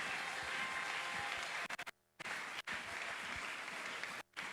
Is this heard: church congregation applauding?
yes